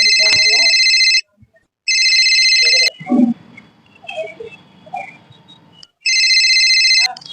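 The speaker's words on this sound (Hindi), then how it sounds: "फोन आवा था।" A mobile phone ringtone rings loud and close in repeated electronic bursts, with a gap where someone speaks briefly and indistinct background noise is heard, before the ringing starts again.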